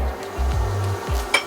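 Garlic tossed into a wok on a Kamado Joe grill for drunken noodles, a few short low knocks of utensil against the pan followed by a couple of bright clinks near the end.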